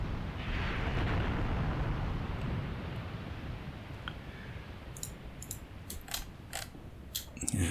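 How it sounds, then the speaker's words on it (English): Artillery shells bursting in the WWII tank game Tank Warfare: Tunisia 1943, a heavy rumbling roar that fades into scattered distant crackles and sharp impacts toward the end. "And here comes our artillery."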